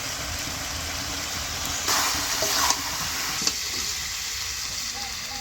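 Marinated chicken with cumin, black pepper and Kashmiri chilli powder sizzles steadily in oil for palak chicken, with a few brief stirring scrapes and clinks rising over the constant frying hiss.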